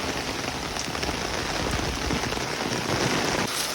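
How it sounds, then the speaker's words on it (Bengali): Steady rain pours down outdoors as a dense, continuous hiss of drops striking surfaces, loud and even throughout, with no voices. "এই মাত্র আমি নামলাম আর এই মাত্র বৃষ্টি"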